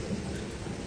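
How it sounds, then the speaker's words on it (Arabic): Heavy rain pours down in a dense, constant roar, with a deep low rumble and no voices. "شحال المطر. شوف منو كتصب."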